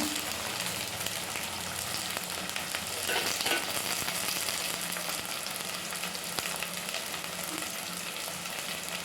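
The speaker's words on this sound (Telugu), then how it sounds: "ఇవన్నీ నూనెలో బాగా మగ్గనివ్వాలి" Pasta snacks fry in hot oil, giving a continuous close sizzle with bubbling crackle that swells briefly partway through.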